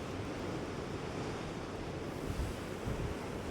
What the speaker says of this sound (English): Oh, the waves coming in.